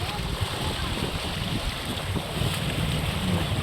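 A motorized outrigger pump boat engine hums steadily beneath heavy wind buffeting the microphone, with sea water and surf noise all around.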